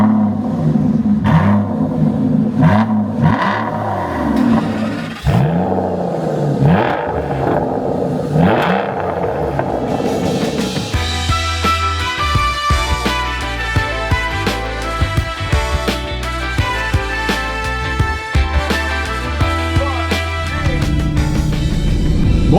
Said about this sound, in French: on démarre les V12 et on part faire un tour